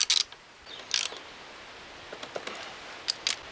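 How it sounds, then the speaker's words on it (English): A bracket on a Yamaha TTR90 dirt bike is tightened with a hand tool during a rear tire and tube change, giving scattered close ratchet clicks and short metallic ticks in a quiet room. "Okay, so we can finish tightening up this bracket here."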